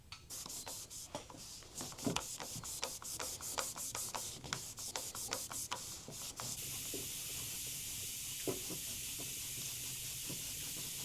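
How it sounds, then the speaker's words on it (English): A rag soaked in isopropyl alcohol rubs old grip residue off a Kawasaki Ninja ZX-4R motorcycle handlebar, making a rapid series of faint, close scrubbing strokes over a steady hiss. "clean off all the old residue from here using isopropyl alcohol and a rag"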